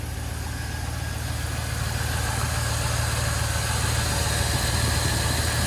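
A 1997 Land Rover Discovery with the 4.0 engine idles close by, a steady low rumbling drone with even pulsing and a faint mechanical whine, no voices over it.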